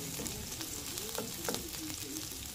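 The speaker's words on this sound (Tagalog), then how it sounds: "Lutuin lang natin yung sibuyas." Onions frying in a pan with a steady, close sizzle and occasional stirring clicks throughout, no talking.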